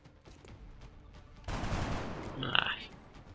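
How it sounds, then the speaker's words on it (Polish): Gunfire in the video game XCOM: Enemy Within: a burst of gunfire breaks out after a quiet moment, a dense noisy blast with a sharp crack near its end, fairly close and moderately loud. "No spróbujmy oddać strzał do niego."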